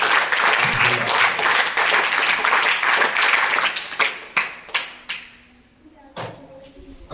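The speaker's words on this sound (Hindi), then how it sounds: "जोरदार तालियां बजा करके" Students in a class 7 science lesson clapping loudly, a dense burst of applause that thins into a few scattered claps and thumps, then near quiet with one late clap.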